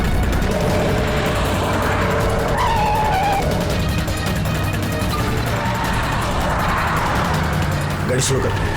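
A car speeding with its engine roaring and tyres skidding in a noisy, tense street chase scene, loud and continuous throughout, with a voice heard briefly over it.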